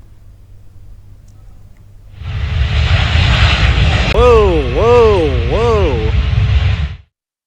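Cargo plane at Northern Kentucky airport in the US landing with its tail striking the runway, a loud sustained engine roar throughout with a rising wavering tone over the middle, under a voice, cutting off abruptly.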